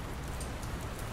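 Steady rain in the game Dr. Langeskov, The Tiger, And The Terribly Cursed Emerald gives a brief, even hiss of falling drops with no other sound.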